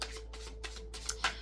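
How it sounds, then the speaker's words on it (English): An oracle card deck being shuffled by hand, giving soft papery riffling bursts that repeat several times in close succession, near and fairly quiet, with no talk. "I'm going to use some oracle decks to help me out here. Let's give them a nice shuffle."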